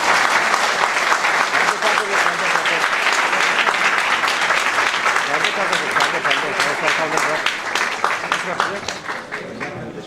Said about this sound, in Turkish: kuvvetli alkışlarınızla sahneye davet